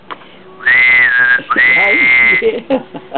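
A person whistles to imitate a father's signal whistle, two long clear sustained notes with a slight rise and dip, loud and close, followed by soft breathy sounds.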